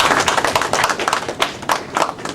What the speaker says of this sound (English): I want you guys to clap for yourselves.